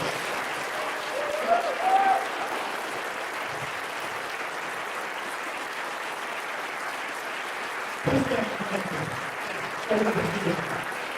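An audience applauds two debaters at the close of a debate, a steady, moderate wash of clapping with brief voices rising over it now and then.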